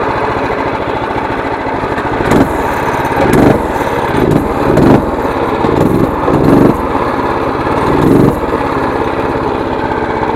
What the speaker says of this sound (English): This is a stock Predator 212cc with a 12 tooth on the front.